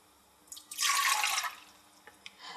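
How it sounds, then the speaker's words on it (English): Half a cup of water pours into the bowl of a stand mixer, a close splashing gush lasting under a second, followed by a few faint clinks and drips. "So the first step is to add half a cup of water and 4 tablespoons of sachet A"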